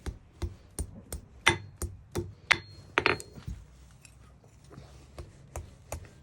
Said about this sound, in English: I'm actually going to bend this over the anvil.